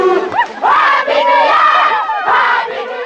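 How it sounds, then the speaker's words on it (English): Performers of all ages at a Bonani song performance on Epi Island shout, cheer and whoop loudly together. Overlapping high voices and yelps rise and fall in dense bursts throughout. "Performers of all ages add claps, shouts, cheers, whistles, and whoops to make the sound more dense and intense"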